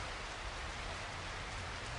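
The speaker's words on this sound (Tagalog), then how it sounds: "Malakas ang ulan" Heavy rain pours down in a constant, dense hiss, steady and unbroken with no voices.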